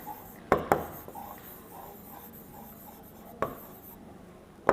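A pen writing on paper for survey notes, with steady soft scratching and a few sharper taps as strokes begin, close and quiet against a faint background hiss.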